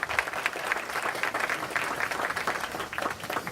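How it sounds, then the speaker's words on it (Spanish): An audience at an evening infrastructure forum in El Salvador gives dense, sustained applause that stays fairly even throughout. "un aplauso por favor a todos ellos"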